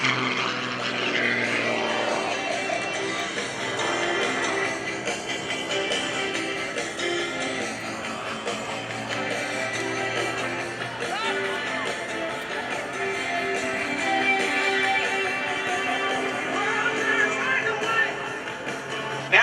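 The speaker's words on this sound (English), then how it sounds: "he'll dive straight down toward the deck, right behind the Blue Angels" Aerobatic airplane from the Red Bull Air Force diving toward the deck at a military air show, its propeller engine droning steadily and loudly throughout, blended with crowd and PA noise.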